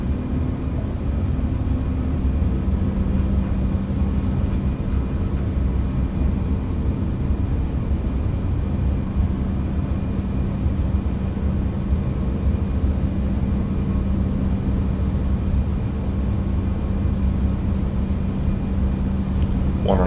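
Airbus A340 ACJ VIP jet engines run at takeoff thrust in a flight simulator: a loud, steady, unbroken roar with a constant hum that holds for twenty seconds with no change.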